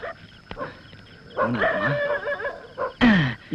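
A dog barks and yips a few times, fairly close, with a whimpering rise near the end; no talking.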